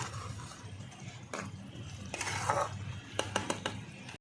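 Fish curry with potatoes is stirred and sautéed in a pan, a spoon scraping and clinking against metal in irregular knocks that grow sharper and more frequent toward the end, with no talk.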